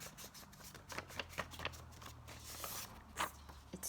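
Paper pages are shuffled and folded together into a booklet, making soft rustling, crinkling and papery flapping sounds in a quiet room with no talking.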